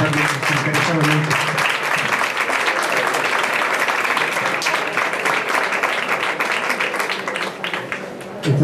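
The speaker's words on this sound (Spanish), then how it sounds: "Este aplauso es para ti" A crowd at a Salve singing performance in the Hermandad del Rocío, Isla Cristina, applauds steadily and loudly for several seconds, a dense wash of clapping that thins slightly toward the end.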